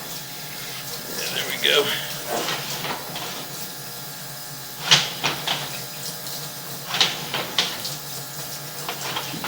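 Water sprays from a hose to rinse spider webs off a house exterior, a steady hiss running throughout with a few splashy bursts, while a person talks over it.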